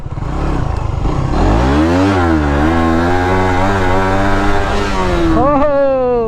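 A motorcycle engine revs hard during a wheelie on muddy ground, loud and close, its pitch climbing, dipping and climbing again, then dropping sharply near the end.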